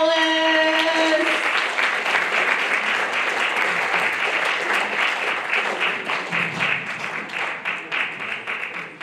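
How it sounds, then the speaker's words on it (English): Senior variety show audience gives a round of applause. A brief sustained tone opens, then many hands clap loudly and continuously, gradually thinning into scattered claps near the end. "Let's give a big round of applause for Bob Ellis."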